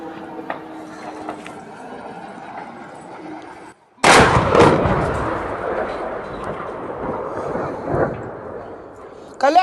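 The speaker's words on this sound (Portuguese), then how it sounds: "dá para ver algumas explosões secundárias antes do segundo drone atingir o lugar ali" Drone strike on a storage site for Russian equipment, a sudden loud blast followed by a long rumbling roar of burning and secondary explosions, with a faint background hum beforehand.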